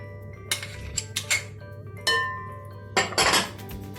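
A salad with pepper paste mixed in a bowl, with a metal spoon clinking and scraping against the dish in quick irregular bursts, close and clear, over a low steady background hum.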